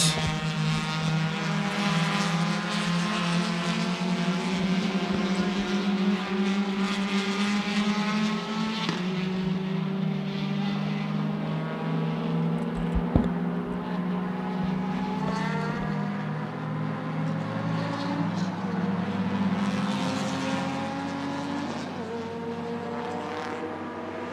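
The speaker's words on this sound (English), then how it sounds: "that number 50 City racing car, the dominating car from round one, race one, back out on track after the pit stop" Race car circulating on a circuit during a Malaysia Championship Series race, its engine droning at high revs with shifting pitch as it passes, steady and prominent from start to finish.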